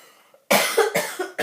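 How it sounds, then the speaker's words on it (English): A person with a heavy cold coughs in a quick burst of four harsh, close hacks after a moment of near silence. "I'm gonna cough again"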